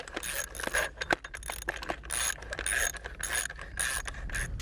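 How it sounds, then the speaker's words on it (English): Three bolts tightened on the nose cone of an SQFlex wind pump turbine head: close metallic ratcheting clicks and jangling in quick irregular bursts, with no talk. "Remount the 3 bolts and tighten them properly."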